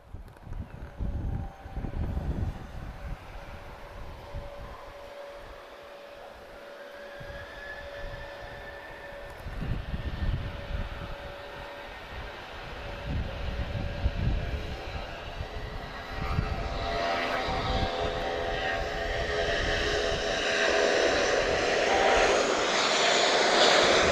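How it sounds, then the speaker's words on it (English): A Gulfstream business jet departs Lisbon Airport, its engine roar building steadily from a low rumble to a loud, sustained rush with a rising whine, under steady wind noise and no talk. "we're going to get a BizJet departure, guys, Gulfstream this time"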